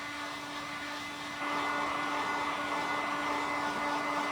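Steady whooshing blast of a heat gun warming a WoodUbend moulding, a constant airy hum with a fixed tone that grows slightly louder partway through, close and uninterrupted.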